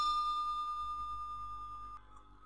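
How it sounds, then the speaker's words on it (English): A subscribe-bell sound effect rings out as a clear, sustained metallic ding with a bright tone that slowly decays, then cuts off sharply near the end, heard alone and quiet. "This is our bell sound."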